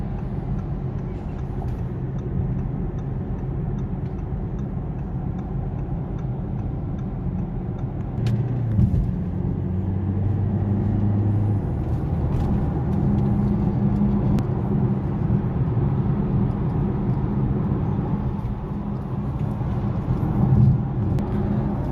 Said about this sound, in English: So we're just taking the vehicle on a test drive.